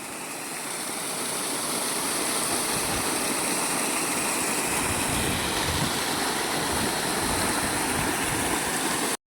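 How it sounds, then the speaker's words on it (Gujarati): A flowing water stream near Sandhida Mahadev, a loud, even rush of water that continues without a break for several seconds before cutting off abruptly. "પાણીના ઝરણાના"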